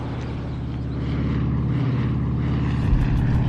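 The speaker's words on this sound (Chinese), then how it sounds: "国民党的飞机" A propeller-driven warplane drones overhead in a wartime drama set in mountains, a steady loud engine rumble that swells slightly and holds throughout with no talk.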